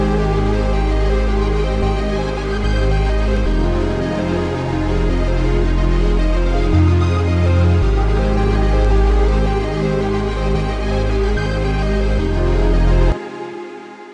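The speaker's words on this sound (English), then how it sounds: "So all of the melodies together sounds like this." Layered FL Studio beat melodies for a Nokia-style track play together without drums, a steady looping mix of sustained chords and bass notes. It is loud and continuous with no talking, then cuts off abruptly near the end.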